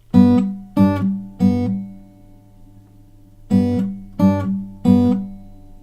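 Acoustic guitar playing the third bar of a song with a bass line added, six plucked chord strikes in two groups of three separated by a pause, close and clear with no talking.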